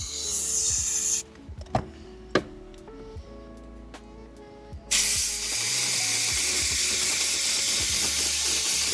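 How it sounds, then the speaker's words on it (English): Hissing spray of a steamer blasting hot steam and air onto perforated leather car seats, a loud continuous burst, then a pause with scattered clicks and taps before the hiss resumes and holds steady. "A little bit of hot steam and air."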